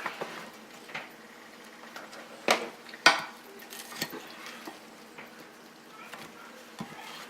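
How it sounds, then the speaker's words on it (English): Big serving spoons toss and mix a cheesy vegetable bake in a dish, giving scattered scrapes and clinks at an irregular pace, with a few sharper knocks standing out against a quiet background. "cheese right on in, and we're going to mix all this up together. A couple big spoons here."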